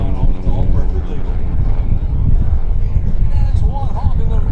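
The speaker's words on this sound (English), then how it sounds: "That's one honky little 90 horse that does not sound like a 90 horse Continental." A 90-horsepower Continental aircraft engine on Kent Pietsch's small plane runs at full power during an air show open house, a loud, steady roar with wind buffeting, while an announcer talks over it throughout.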